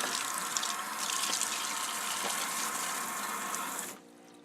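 Water running off a backsplash into a utility sink basin, a steady splashing rush for about four seconds that then cuts off abruptly, leaving a faint hum.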